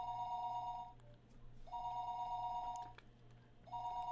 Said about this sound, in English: dialed a short phone number, the kind unique to remote places.